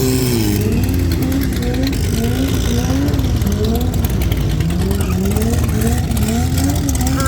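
Ford Raptor race cars running at Tarlton International Raceway, with loud, continuous engine drone and wavering revs as they accelerate and lift, close by and steady throughout.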